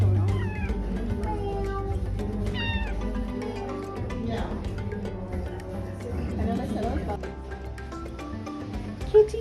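A cat meows repeatedly in short upward-sliding calls over a steady low background hum, close by, with a person talking softly to it around the calls.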